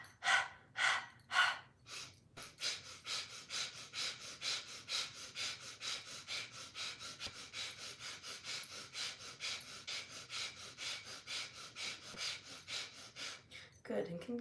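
Rhythmic yoga breathing done with the lips together, a fast steady series of breaths pushed through the nose, close and alone, after a few slower breaths at the start.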